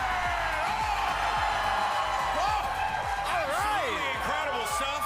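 A live esports crowd at a Valorant finals match, G2 versus LEV on Haven, cheers and whoops continuously in a large venue, loud and dense throughout, with voices rising and falling in excited shouts.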